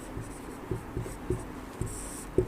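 Chalk or marker taps and scratches on a board in short, irregular strokes, close and fairly quiet against faint room hiss.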